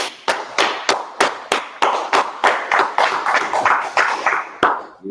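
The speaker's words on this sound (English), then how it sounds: "Let's go ahead and clap it up." A live audience claps at the start of a Thursday night scripture teaching session, about fifteen sharp, evenly spaced hand claps in a steady rhythm, close and loud, with no one speaking over them.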